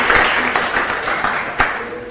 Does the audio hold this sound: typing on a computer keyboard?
no